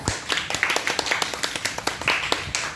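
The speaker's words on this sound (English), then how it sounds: "I would like to give you another round of applause" A small Toastmasters club meeting gives a round of applause, a handful of people clapping in a sparse, uneven rhythm, close and distinct with individual claps audible.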